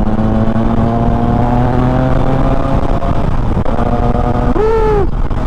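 A Triumph Trident 660 motorcycle engine drones steadily while riding, with a loud, close, constant hum that shifts pitch midway and rises in a quick rev near the end; no talking.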